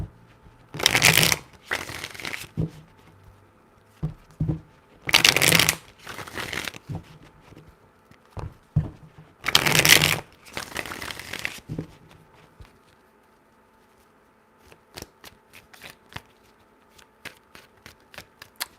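A deck of tarot cards is shuffled in three distinct bursts of riffling and slapping, each lasting about a second or two, followed by softer scattered taps and handling sounds of cards being laid out.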